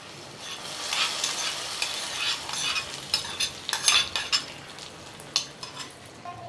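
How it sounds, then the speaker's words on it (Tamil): Fried cashews and raisins being stirred into simmering sago kheer in a pot, with scattered spoon clinks and scraping over a soft bubbling background, moderately close. "நம்ம வறுத்து வச்சிருக்கிற முந்திரி திராட்சையை இதல கொட்டிடலாம்"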